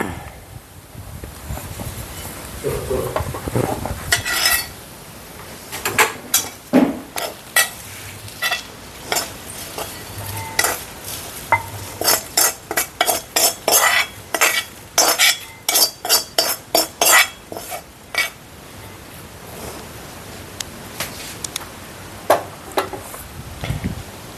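Cooked chinda-style stir-fry (mezhukkupuratti) being scooped from the pan into a serving vessel, with a quick run of sharp metal utensil clinks and scrapes near the mic, some soft sizzle underneath.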